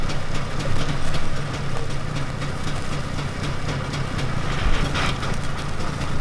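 A Trabant's small engine running at idle, a steady buzzing rumble held at an even level throughout, close by, with no talk over it.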